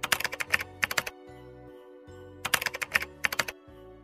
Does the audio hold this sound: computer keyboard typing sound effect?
yes